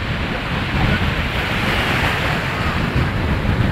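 Sea waves surge and wash around a small boat out on open water, a steady, loud, continuous rush with wind buffeting the microphone throughout.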